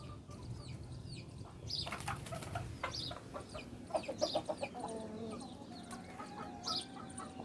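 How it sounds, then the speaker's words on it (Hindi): Chickens clucking and calling in a farmyard in the early morning, with a brief burst of wing flapping and a run of sharp, busy clucks, fairly close and steady over a low background. "और ये कुछ मुर्गियाँ चेक कर रही।"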